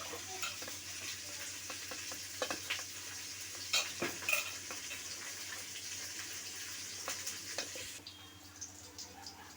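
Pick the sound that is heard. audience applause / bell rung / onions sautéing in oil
onions sautéing in oil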